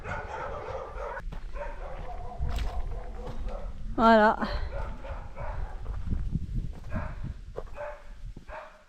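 A pack of dogs barks on both sides of a road just past the Greek border, with a loud burst of yelps in the middle of the clip and scattered barking underneath ongoing speech and outdoor movement.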